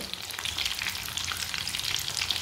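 Kebabs browning in a frying pan give a steady, close sizzle with crackling oil spatter, continuous throughout with no talking.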